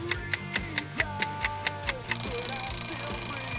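A kitchen timer counts down for ribs warming in an oven, giving about nine steady, even ticks before breaking into a loud, continuous metallic ringing alarm that carries on to the end.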